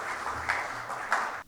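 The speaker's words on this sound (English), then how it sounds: "Let us have a big round of applause for all the speakers" Audience applause for speakers at an international tax conference in Dubai, a brief, steady patter of clapping heard from a distance, faint and continuous before it cuts off.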